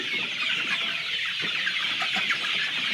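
Laying hens on a poultry farm clucking in a dense, continuous chorus of overlapping calls, close and steady with no voices.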